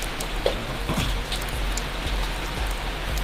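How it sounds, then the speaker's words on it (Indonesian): Rain falls steadily on a surface, a dense continuous hiss with scattered drop taps, fairly close and uninterrupted, with no voices over it. "hujan."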